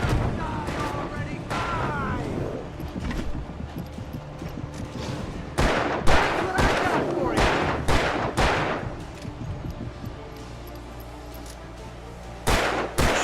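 Repeated gunshots in the horror action game Alan Wake Remastered: sharp, loud cracks in irregular bursts, several clustered mid-clip and a couple more near the end, over a low ambient rumble with voices talking.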